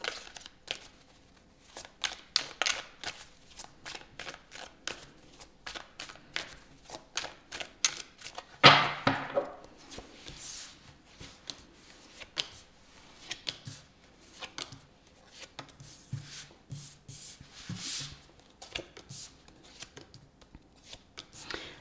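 Tarot cards being shuffled by hand, repeated quick riffling and flicking bursts in uneven runs, close and fairly soft, with one sharper slap near the middle and no talk.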